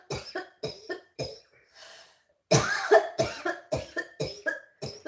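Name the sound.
person coughing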